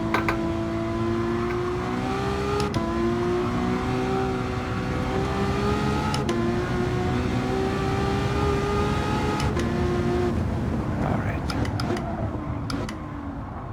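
Ferrari race car engine in Gran Turismo 7 driving on PSVR2, a steady loud drone with rising and falling harmonic pitch as it revs through gears, brief shift breaks, continuous throughout.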